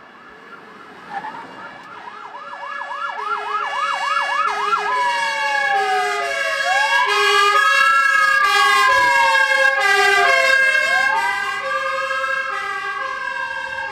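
Fire engine sirens wailing during a municipal firefighting drill with volunteer fire crews and several vehicles, several rising and falling tones overlapping, loud and close, swelling in the middle and easing slightly toward the end.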